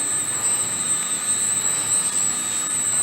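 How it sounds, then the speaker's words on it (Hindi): A diesel fire pump engine runs in a pump room with a loud, steady, unbroken roar and a constant high whine on top, with no pauses or talk. "और ये डीजल पंप है, इसकी इंजन का ये पैनल है।"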